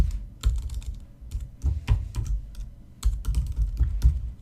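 Quick, irregular bursts of key clicks from typing on a computer keyboard, close and clear, with short pauses between the runs of keystrokes.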